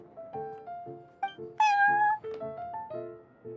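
A cartoonish cat meows repeatedly in Genshin Impact, the video game, inside the Cat's Tail tavern, with short mews forming a steady rhythm and one louder, stretched call near the middle, all close and clear with no talking.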